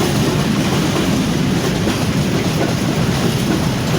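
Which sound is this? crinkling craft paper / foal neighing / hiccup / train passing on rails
train passing on rails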